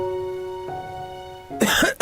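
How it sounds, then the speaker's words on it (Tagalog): A person coughs once near the end, a short, harsh burst up close following a quiet sustained tone. "Ubo?"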